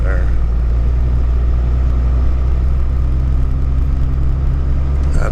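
A Ford Excursion with a Cummins diesel engine plows snow on a driveway, its deep steady engine rumble droning loud and constant throughout, close to the listener.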